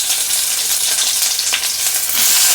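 Onions and green chillies fry in a little oil in a pan, giving a loud, steady sizzle with bursts of crackling and the scrape of stirring, swelling slightly toward the end.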